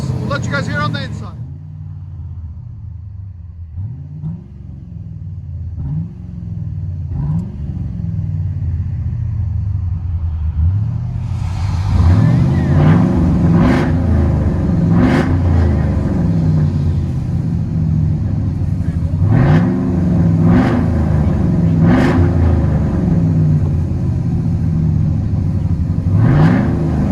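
A GMC Sierra pickup with a 6.0L V8 on straight pipes, with shorty headers and a cold air intake, heard from inside the cab: a deep rumbling exhaust that swells with revs, with voices talking over it.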